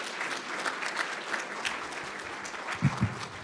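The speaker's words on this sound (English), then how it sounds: "Can we give Melissa one more round of applause" An extra round of applause for Melissa at an athletics hall of fame banquet: steady, fairly quiet clapping from a seated crowd, with a couple of louder low thumps near the end.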